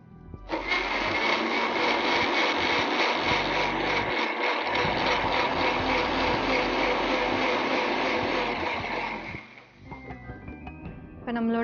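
A blender grinds pineapple, ginger, honey and water in a loud, steady whir lasting several seconds, then slows and stutters in short pulses near the end.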